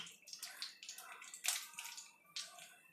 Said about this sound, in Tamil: பாருங்கள், கடுகு நல்லா புரிஞ்சி வந்துன்னு இருக்குது